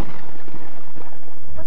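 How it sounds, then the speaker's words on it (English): A loud, dense roar of thunderstorm noise with rumbling thunder and heavy rain fills the short stretch, continuous and close, frightening a border terrier mix. "is frightened of thunderstorm noise like this"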